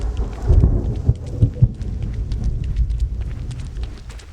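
Thunder rolls through a storm in the survival game Prologue: Go Wayback!, with deep rumbles and a few sharper cracks over a steady rain-like hiss. No one speaks.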